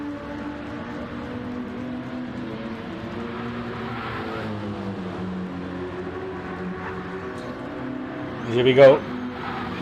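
A BMW GT race car circles Watkins Glen, its engine a faint, steady drone under a commentator's voice, with one short sharp burst of noise near the end.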